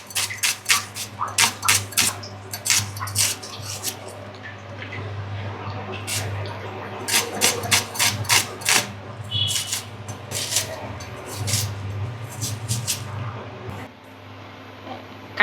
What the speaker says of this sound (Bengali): পেঁয়াজগুলোরে ভালো করে কুচি কুচি কুচি কুচি করে কাটতাছি।